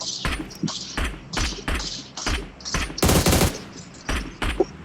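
Rapid automatic gunfire in a competitive scrim match of a shooting video game, coming in repeated short bursts with a dense, loud volley near the middle, close and dominant over the background.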